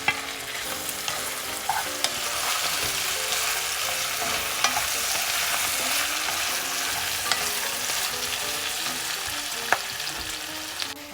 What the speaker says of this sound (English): I'm going to put the potato in it.